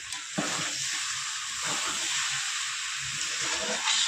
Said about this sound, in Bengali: এবার দিয়ে দেবো আমি চিংড়ি মাছ। চিংড়ি মাছটাতে একটু আবার কষিয়ে নেব।